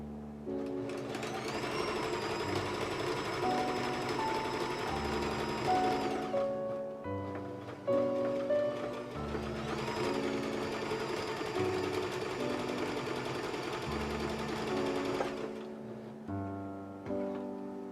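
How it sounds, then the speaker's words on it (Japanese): A sewing machine stitching the side seam of a ballet tutu skirt, running in two long steady bursts of fast whirring with a short pause between, close and clear. "はい、ではサイドを次縫っていきます。"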